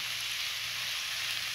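Tomatoes hit a hot frying pan for chicken escabeche, giving a steady, close, bright sizzle with no break or talking.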